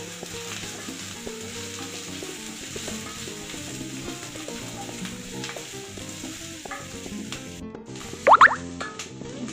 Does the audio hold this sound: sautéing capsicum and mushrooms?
yes